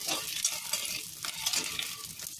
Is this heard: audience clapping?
no